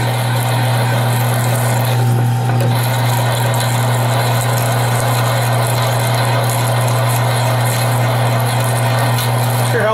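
Drill with a sharp bit boring a hole while clamped to a floor, a steady loud grinding whir with a low engine-like hum and rattle running continuously and close.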